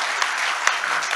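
Assembled audience at a cultural festival hall clapping together: a short, dense burst of applause with a few sharper individual claps, loud and close.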